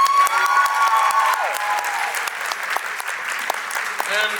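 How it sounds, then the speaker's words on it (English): A crowd at a dance competition gives a round of applause for a dancer, dense sustained clapping throughout with a voice talking over it. "But everyone give Sardine a round of applause."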